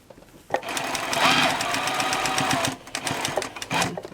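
Sewing machine stitching a fabric face mask, a loud rapid mechanical whirring burst lasting a couple of seconds, then stopping and briefly restarting, with a person talking in between.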